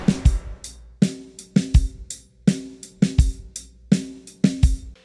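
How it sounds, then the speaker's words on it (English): Drum kit groove with soft snare ghost notes on the offbeats of 2 and 4, a steady repeating pattern of kick, snare and cymbal hits, close and clear with no talking. "if you had to play the snare drum as a ghost note on the of 2 and the of 4,"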